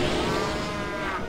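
A cow in the video game Okami lets out one long, loud, steady moo that fills the whole moment with no talking over it.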